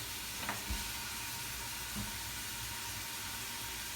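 Onions and celery sizzle in a pan for minestrone soup, a faint, steady frying hiss with a couple of soft knocks from stirring, no voices.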